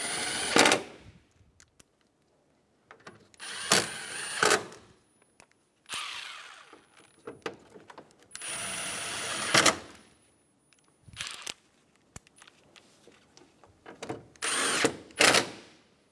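A power drill drives headlight bracket bolts on a 2012-2020 Chevrolet Sonic, sounding as several short, loud whirring bursts with pauses between them.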